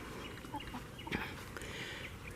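Several free-range Rhode Island Red hens cluck softly nearby, scattered short calls over a quiet outdoor background.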